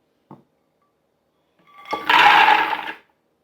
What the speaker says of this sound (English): let it completely blend in the food processor